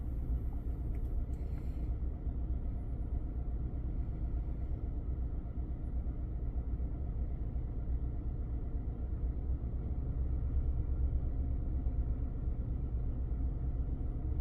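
A V8 car engine idling steadily with all eight cylinders firing during a scan tool power balance test, a low even rumble heard from nearby with no talk.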